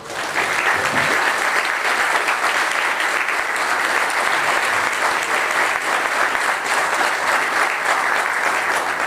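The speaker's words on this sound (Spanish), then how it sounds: "Un fuerte aplauso para todos ustedes." A conference audience applauds at the close of a corporate security talk, dense sustained clapping that starts abruptly and carries on evenly for several seconds, with no talk over it.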